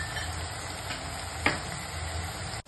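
Masala stirred in a pan while cooking a black chickpea curry, giving a steady sizzle and scraping for a few seconds with one sharper clink midway.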